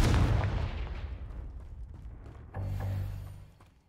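A fiery blast spell from Hogwarts Legacy bursts loudly at the start and rumbles off, then a second, smaller boom erupts midway and fades, with no talking.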